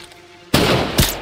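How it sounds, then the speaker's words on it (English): Two loud, close gunshots from the video game Call of Duty: Modern Warfare, a sharp blast followed moments later by a second crack. "You scared me with that gunshot, sir."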